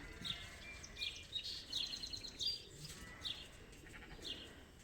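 Yearling ewes arriving on a sheep farm for shearing, giving several faint, scattered bleats from some distance, with light ambient noise between the calls and nobody speaking.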